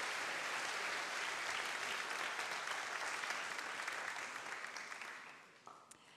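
An audience applauds at a round-table event on ecological transition, a dense burst of clapping that fades out over the last second or so.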